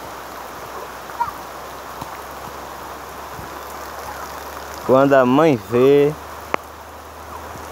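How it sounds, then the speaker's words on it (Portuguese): Heavy rain pouring steadily outdoors in Vila Mendes, Limoeiro, heard from under a tree as a dense, constant hiss with occasional drips, while a person speaks briefly over it. "Chovendo bastante, minha gente."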